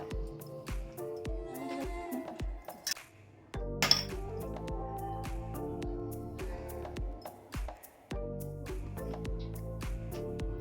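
A metal spoon clinks repeatedly against a steel plate or bowl while masala is stuffed into small eggplants for gutti vankaya, with irregular close taps over a low steady hum and no talking.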